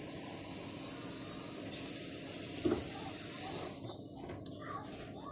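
Water runs from a kitchen tap into a measuring cup, making a steady hiss and splash that cuts off near the end, leaving quieter handling noises.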